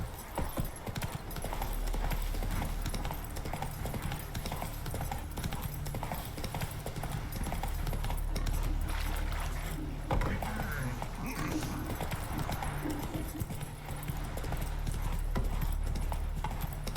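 In The Witcher, the horse Roach gallops with a rapid, rhythmic clatter of hooves, steady and close, with a faint voice and game sounds underneath.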